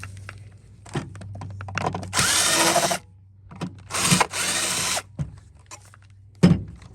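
Power drill backing screws out of a Shark Navigator vacuum's plastic body: two sustained whirring runs of the drill, each about a second long, with clicks, clunks and handling noises between them and a sharp knock near the end.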